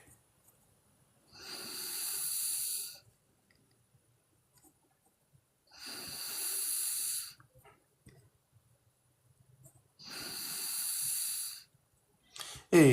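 Slow, heavy breaths close to the microphone, three long airy exhalations evenly spaced with silence between them, alone without talk.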